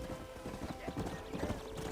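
Rapid rhythmic hoofbeats of a galloping horse in the video game Red Dead Redemption, fairly close, with a voice speaking over them.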